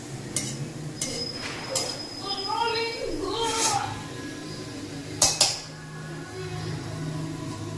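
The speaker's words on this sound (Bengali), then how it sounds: "তেল গরম হলে গোটা জিরে আমরা দিয়েছি, হালকা করে স্টির করব।" A spoon stirs whole cumin seeds in hot oil in a pan while paneer bhurji is cooked, giving sharp metallic clinks and scrapes at irregular intervals under a quiet, steady voice talking.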